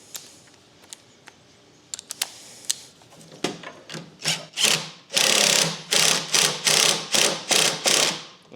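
An impact wrench fitted with a 3/8 adapter works on a 12 mm bolt: a few scattered clicks give way to a run of loud, close, rattling bursts, each lasting under a second, coming in quick succession.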